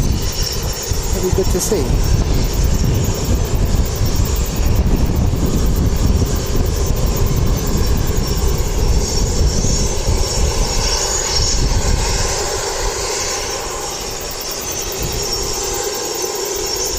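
An Airbus A320's jet engines drone steadily at an airport, a loud, continuous roar that eases toward the end, with a person talking over it.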